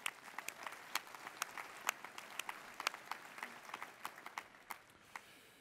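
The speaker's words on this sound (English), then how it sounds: "a big round of applause for joining us" Conference keynote audience applauding at a tech summit in San Jose, a steady wash of many hands clapping with sharp individual claps standing out, sustained for several seconds and tapering slightly toward the end.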